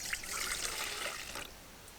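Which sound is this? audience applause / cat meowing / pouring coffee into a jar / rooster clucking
pouring coffee into a jar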